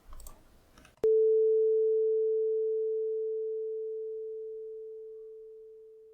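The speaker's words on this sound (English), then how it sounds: "This is a sine wave example which decreases the volume smoothly using the Pulse IDEO backend." A pure sine tone generated through the PulseAudio backend in a Zig program starts abruptly after a second of muffled background noise, then holds steady in pitch while its volume fades smoothly and gradually.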